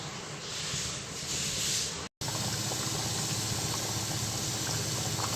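A thick coconut milk gravy with tamarind and elephant foot yam bubbles and hisses steadily on the stove, close and continuous, with a brief dropout partway through.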